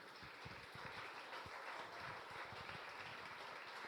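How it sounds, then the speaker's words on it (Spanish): Congregation in a church applauding together, a steady dense patter of many hands clapping at a moderate distance, continuous and fairly even throughout with no clear pauses. "yo quiero que aplaudamos al Señor por las madres que están aquí presentes"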